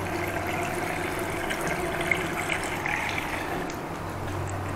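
Water runs steadily from a tap in an abandoned house, a continuous broadband hiss and splash that holds at a constant level throughout with no talk over it.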